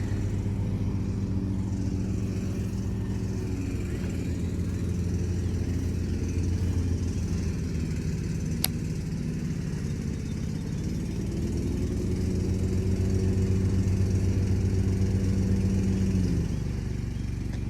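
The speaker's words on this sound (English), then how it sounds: "the lawnmower is right behind me" A lawn mower engine drones steadily close by, a low rumbling hum that swells slightly louder partway through before easing off.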